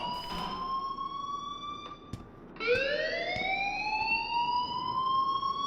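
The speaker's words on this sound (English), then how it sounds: "please turn off that alarm since that's your job" Alarm in the video game Life is Strange, a steady electronic siren tone that rises in pitch and wails continuously, with a few clicks and knocks underneath and no talking.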